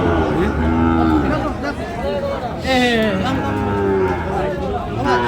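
Sahiwal bull calves at a crowded cattle market, several loud drawn-out moos rising and falling close by over a steady babble of people talking.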